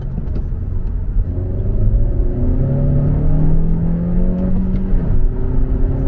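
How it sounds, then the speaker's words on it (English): A 2017 Honda Civic Sport hatchback with a 180 hp turbocharged inline-4 and six-speed manual accelerates hard. Its loud, close engine drone climbs steadily in pitch, then dips briefly at a gear change, with no voices. "this 6-speed manual transmission combined with that a 180 horsepower inline 4 turbo is quick"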